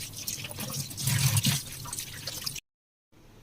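Tap water running and splashing in a sink while fish is washed, a steady close gush that swells in the middle, then cuts off abruptly before a faint trickle resumes.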